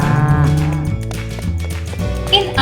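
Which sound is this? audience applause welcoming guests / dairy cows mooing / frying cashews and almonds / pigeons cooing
dairy cows mooing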